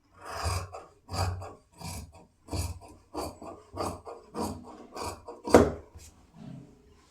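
Scissors cut through pant fabric along marked lines in a tailoring setup, giving about a dozen evenly spaced, close, crisp snips with brief pauses between strokes.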